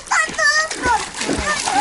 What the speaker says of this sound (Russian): Я плаваю под водой.